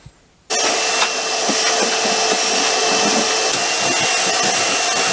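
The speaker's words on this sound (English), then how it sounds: "give it a good clean with a hoover" A Hoover vacuum cleaner switches on suddenly after a brief quiet moment and then runs as a loud, steady whine while cleaning the battery area aboard a sailing boat.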